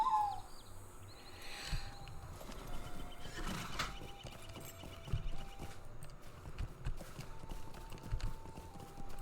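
Horse hooves clip-clopping in a steady rhythm while riding through the LOTRO game world, fairly faint, with occasional bird calls and ambient game sounds around them.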